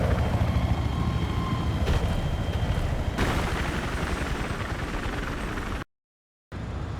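A helicopter flies in the Battlefield 3 PC game, its dense rotor and engine roar loud and steady, with a sharp impact or gunfire burst partway through and a brief total dropout near the end.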